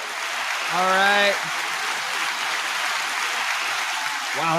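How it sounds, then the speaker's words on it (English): Long round of audience applause at an avalanche-safety talk in a speaker series, a steady broadband clatter of many hands throughout, with a brief spoken voice rising near the start and another voice beginning at the end. "that's a long round of applause"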